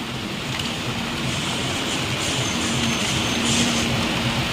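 Steady monsoon rain pours down continuously at close range, a broad, even hiss holding at one level throughout with no voices.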